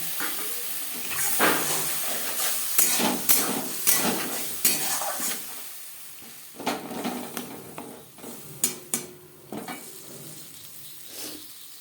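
Spice masala for a Bengali potato and pointed gourd curry sizzles in a pan, with intermittent stirring scrapes and bursts of frying hiss over roughly twelve seconds, near and moderately loud, no speech.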